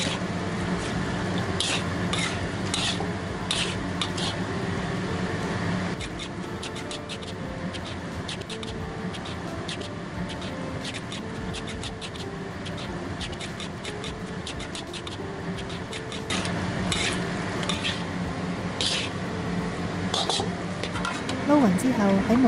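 Sifted rice flour batter for Cantonese turnip cake being mixed quickly, with continuous scraping and sloshing stirs against a bowl under a voice talking throughout.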